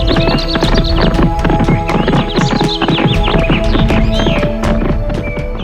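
A horse carrying a rider in armor climbs a hill with rapid, rhythmic hoofbeats clopping throughout, loud and close, while a whinny rises partway through.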